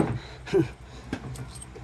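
A set of door keys jangles close by in a few short metallic bursts, with a dog whimpering faintly in the background.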